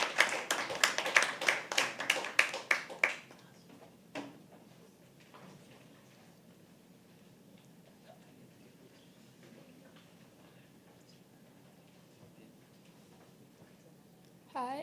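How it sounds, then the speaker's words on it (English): Audience at a live poetry open mic claps for a few seconds with sharp, close hand claps, then the clapping dies away into a quiet room with scattered small noises. "Give us a round of applause."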